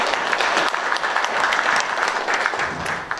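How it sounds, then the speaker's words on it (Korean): Audience applause at the close of a Korean public forum on improving labor rights for local delivery riders, steady and dense clapping from a roomful of people sustained for the full few seconds without talk. "우리 토론자들께 다시 한번 힘찬 박수를 부탁드리겠습니다."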